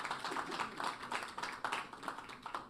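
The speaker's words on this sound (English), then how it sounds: "can I have a round of applause for everybody today?" Applause from an audience at a hip hop and mental health panel, a steady wash of many hands clapping with no voices over it.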